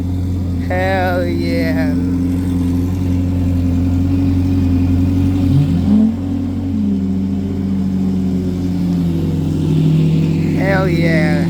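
A Ferrari at a car show revs its engine loudly and steadily, with rising pitch sweeps as the throttle climbs, while people nearby shout excitedly over it.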